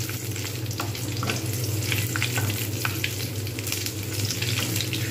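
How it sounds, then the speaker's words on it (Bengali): Masala papad fries in a generous amount of oil, turned from side to side, making a dense steady sizzle with sharp crackling pops over a low constant hum in the background. "এরকম করে ভালো করে আমি কিন্তু ভেজে নেব। এপিট ওপিট করে তেল একটু বেশি দিয়ে দিয়েছি একেবারে।"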